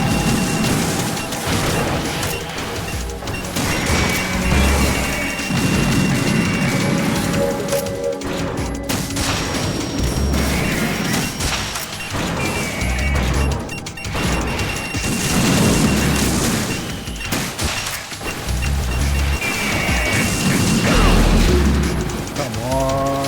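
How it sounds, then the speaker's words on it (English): Metal Gear Solid 2 missiles burst in a continuous loud barrage, a dense roar of crashes and booms with repeated low thuds throughout and no quiet gaps. "Missiles."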